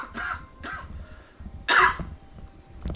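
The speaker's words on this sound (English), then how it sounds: "I got another cough kicking in" A person coughing between pauses during a strategy game session, a few short harsh bursts with one louder cough near the end, close to the microphone and mostly alone.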